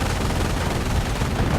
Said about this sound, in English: German gunfire.